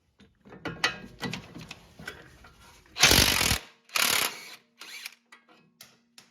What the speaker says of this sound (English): hold the bolt with a 19 mil wrench and then loosen the nut with a 22 mil socket